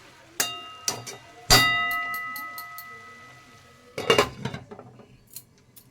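A metal lid goes onto a pot of aloo methi (potato and fenugreek) cooking on the stove, giving three sharp metallic clanks with bright ringing tails, separated by short pauses, close and fairly loud.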